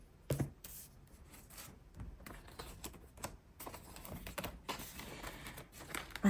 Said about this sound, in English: Let me just write that down.